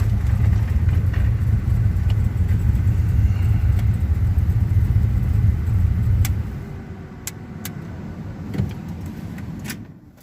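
A customized truck idles through its startup sequence, a steady deep engine rumble that drops to a quieter idle partway through, with a few faint clicks and ticks near the end.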